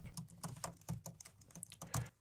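Someone types an email address on a computer keyboard, a quick, uneven patter of soft key clicks close by with small pauses between bursts, faint and with no voices.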